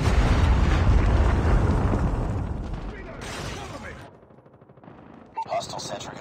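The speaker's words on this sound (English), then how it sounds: "Hostile Predator missile inbound" Dense Call of Duty gunfire and a heavy Predator missile blast in a 10 vs 10 Kill Confirmed match on the Rust map, a loud continuous barrage that thins out near the end before sharp shots return.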